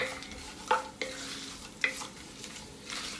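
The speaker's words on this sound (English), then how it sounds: "stir them in the hot fat just for that second" Caraway and dill seeds stirred in hot fat, a quiet sizzle with a couple of sharp utensil clinks against the pan and soft scraping, close and brief.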